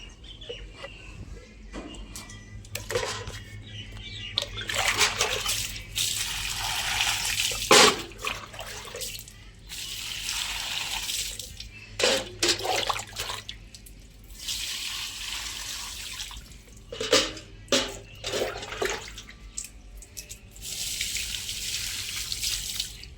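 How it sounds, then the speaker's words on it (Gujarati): Water splashes and pours across a stone porch platform being washed, in bursts of spraying and sloshing with brief pauses, while chickens cluck nearby in the background. "પછી આ ધોઈ દઈએ ઓટલો"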